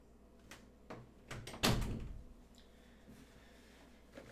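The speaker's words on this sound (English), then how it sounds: "I should probably close the door." A door shuts in a house on a weekday morning with a single solid thud, preceded by faint knocks and followed by quiet room tone.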